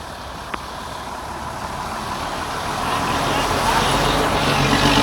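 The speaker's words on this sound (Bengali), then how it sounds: "এই দেখো গাড়ি আসছে, কি প্রচণ্ড জল দেখো।" A vehicle approaches along a heavily flooded road, its engine and the swash of deep water swelling from a distant rumble to a louder, nearer wash, with a brief click near the start.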